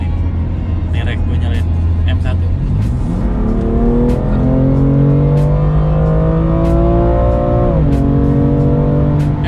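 A BMW M2 Competition sports car engine, set up differently from the standard M2, idles loudly and then rises steadily through a long rev, dipping and climbing again, with voices talking over it.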